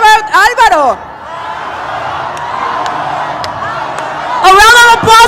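At CCXP Mexico, a convention crowd cheers and applauds Sydney Sweeney and Álvaro Morte. A voice speaks at the start and at the end, and a steady wave of crowd noise fills the middle.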